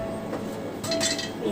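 Popcorn kernels pop in a covered pot, giving a few light clinks against the lid over a steady background hiss.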